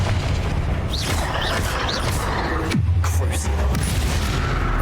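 The Confringo explosive spell cast in the video game Hogwarts Legacy gives a deep booming blast amid busy combat effects, with spoken voices and whooshing spell sounds around it.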